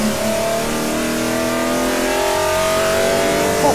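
Aston Martin One-77 with a Cosworth V12 accelerating hard down a straight, its engine note climbing steadily and loudly with rising harmonics, close and continuous with no talk.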